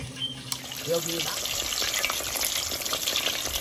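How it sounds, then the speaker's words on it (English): Steady crackling sizzle of chicken frying in hot oil, continuous and fairly close, with a brief voice at the start. "this chicken has been frying on that side for about 4 minutes"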